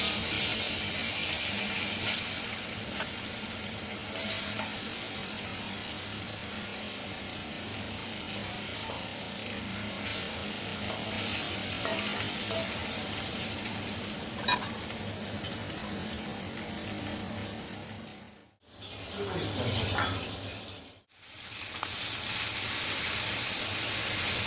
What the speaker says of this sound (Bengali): একদিকে মাছ একদিকে চিচিঙ্গা ভাজা বসিয়ে দিয়েছি।